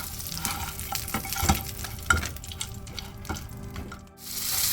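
Chicken pieces frying in a pan for chicken katsu are turned over, giving a steady close sizzle broken by several scraping, clattering stirs and knocks.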